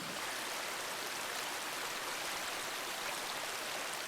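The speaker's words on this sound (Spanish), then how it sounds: "hay áreas donde incluso vemos los meros nacimientos saliendo, brotando el agua del nacimiento puro" Spring water welling up and flowing down from a forest source, heard as a steady, dense rush of running water that stays even and continuous from start to finish with no voices.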